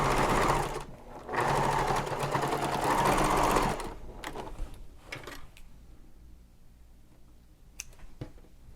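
A sewing machine runs in steady bursts while top stitching along a messenger bag flap, catching the flap's seam allowance; two continuous runs of even motor whir come first, then brief clicks and handling noises trail off into quiet.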